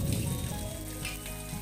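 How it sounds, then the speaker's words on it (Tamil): Onions sizzle and crackle in hot oil for a Madurai-style mutton roast, a close, steady frying hiss with small pops. "வெங்காயத்தை நல்லா வறுத்துக்கோங்க"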